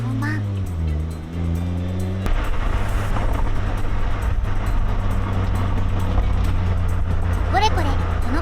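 An open-top Mazda Roadster ND drives along a quiet island road in the Seto Inland Sea near Kure. Its steady engine drone rises in pitch at first, then settles into an even hum with wind rush.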